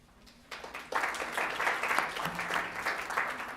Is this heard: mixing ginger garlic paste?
no